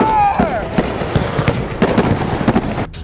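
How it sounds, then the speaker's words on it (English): Fireworks going off in a backyard during a birthday party, a rapid series of loud cracks and pops close by, with an excited voice shouting at the start. "We got fireworks in the backyard!"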